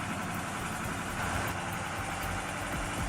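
A tractor engine runs steadily during stump removal of a large tree, a dense, loud, continuous drone with no pauses.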